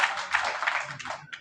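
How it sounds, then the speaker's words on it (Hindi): An audience at an Indian mushaira clapping for a poet, dense, loud applause from many hands that gradually thins out over a second and a half. "तालियां बजा के मुझे हौसला दे"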